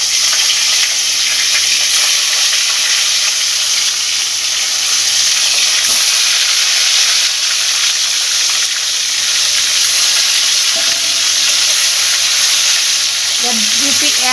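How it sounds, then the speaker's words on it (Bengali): Pieces of aor fish (Sperata catfish) fry in oil in a kadai over medium heat, giving a steady, loud, dense sizzle that runs unbroken throughout with faint clinks near the end. "মাছটা আমি এবার জোর দিয়ে দিলাম মাছটা ভাজা হোক এক পিট"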